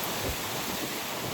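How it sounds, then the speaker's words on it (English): Strong outdoor wind buffets the microphone in a steady, loud, rumbling roar that fills the short stretch with no voices. "Oh my god, it's so windy."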